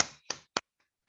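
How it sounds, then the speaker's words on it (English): A few sharp claps ring out in a class session, three distinct hand strikes spaced apart, each crisp and close with a short decay, then quiet with only faint ticks trailing. "Let's clap for him"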